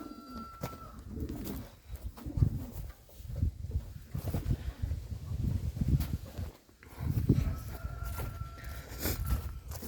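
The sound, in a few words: yellow Czech pigeons cooing in new pigeon loft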